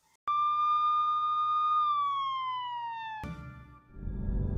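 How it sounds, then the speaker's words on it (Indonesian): A police siren wails loud and close, holding a steady tone before gliding downward, then cuts off abruptly into rumbling noise. "mendengar suara sirene polisi begitu dekat"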